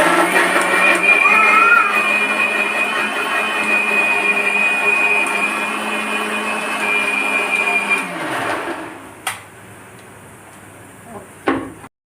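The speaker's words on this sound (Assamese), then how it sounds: "এতিয়া মই এইখিনি মিক্সিত গ্ৰাইণ্ড কৰিম।" A mixer grinder grinds prepared ingredients with a loud, steady whirring drone for about eight seconds, then winds down and stops, followed by a couple of sharp knocks as the jar is handled.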